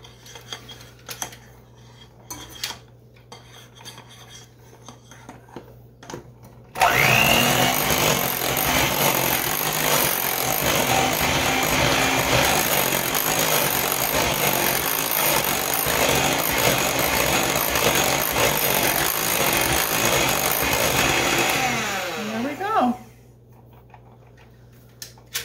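An electric mixer with beaters whirs steadily through cake batter in a bowl for Kathryn's favorite strawberry shortcake cake, starting abruptly, running loud and even for about sixteen seconds, then stopping.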